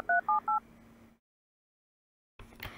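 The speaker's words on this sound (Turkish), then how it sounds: "Bu ne ya, telefon sesi gibi alarm var." Telephone-like elevator alarm on an old elevator in a Roblox game: three quick, faint keypad-style beeps, followed by about a second of soft hum, then silence and a brief noise at the end.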